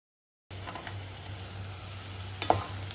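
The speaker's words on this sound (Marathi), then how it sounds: "आता या सर्व भाज्या आपल्याला व्यवस्थित अशा परतून घ्यायच्या" Carrot, capsicum and onion sautéing in a pan, a faint, steady sizzle with a low hum underneath and a couple of brief stirring clinks near the end.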